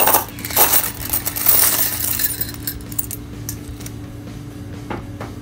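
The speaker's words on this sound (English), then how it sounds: "you'll pour a bunch of coins into the cup" Coins pour into a cup in a bright metallic jingle, loud and close at first, then tapering to scattered clinks with no voices.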